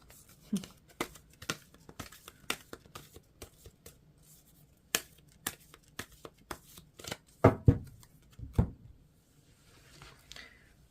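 Large tarot cards shuffled by hand in a series of sharp riffling slaps and flicks, irregular in rhythm, with the loudest bursts near the end and no talking over them.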